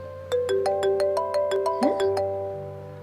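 A phone ringtone plays a loud, close melody of bright, evenly stepped electronic notes that fade out after a few seconds.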